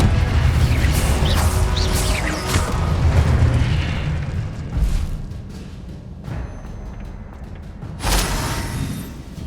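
Fire and blast spells cast in the Hogwarts Legacy game, a run of booming, crackling impacts with heavy low rumble, one burst after another with a fresh bang near the end, no talking.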